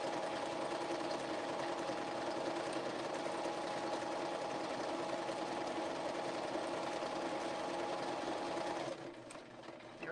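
A sewing machine stitches junk journal pages, running in one steady, even mechanical whir at close range for several seconds before it stops abruptly near the end.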